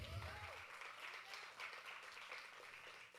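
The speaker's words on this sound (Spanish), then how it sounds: "Denle un aplauso al Señor." A church congregation applauds in praise during a Spanish-language sermon, a steady, moderately distant wash of clapping that holds across the whole stretch, with some low rumble at the start.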